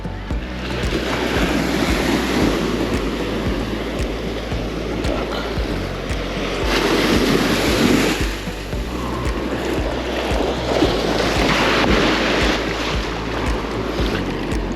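Surf washing steadily onto a Phuket beach, a continuous broadband rush of breaking waves with wind buffeting the microphone throughout, no voices.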